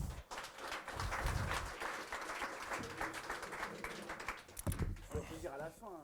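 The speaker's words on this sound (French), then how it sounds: "merci de l'applaudir chaleureusement" An audience at a French crime fiction festival applauds an author at a book event with warm, steady clapping that fades near the end as a voice speaks over it.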